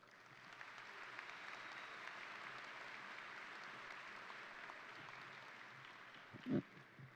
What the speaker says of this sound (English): Please give them and all of our guests a round of applause